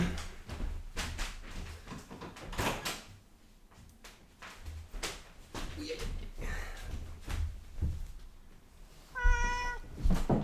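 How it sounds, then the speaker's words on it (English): A house cat meows indoors, a couple of short, clear calls near the end, preceded by knocking and drawer-like thumps while a person speaks quietly. "just give me a second that my cat is meowing"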